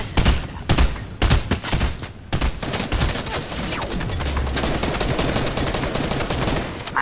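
Fortnite SMG fire, several sharp close bursts early on, then a denser, continuous rattle of quick shots that carries on loudly to the end.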